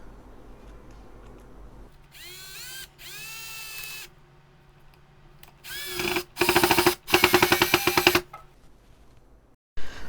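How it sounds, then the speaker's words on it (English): A Bosch GSR 120-LI cordless drill drives a screw into wood in several short whirring bursts, the motor whining in rising pitch, with the final bursts louder and rattling as the screw seats; a brief pause falls between bursts. "So you just saw how easily we could push these screws inside the wood"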